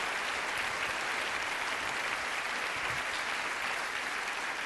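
A conference audience claps in steady, dense applause, moderately distant and even throughout, with no individual voices standing out.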